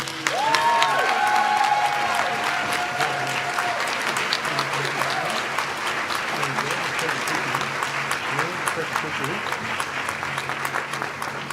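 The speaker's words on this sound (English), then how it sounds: "I'd like for all of you to give Ms. Epps another round of applause." Sustained applause from a convocation audience fills the room, steady and dense throughout, with a voice speaking briefly at the start.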